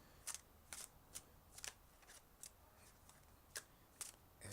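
Tarot cards shuffled by hand in short crisp riffling bursts, about a dozen spaced irregularly over a few seconds, close and fairly quiet with no talking.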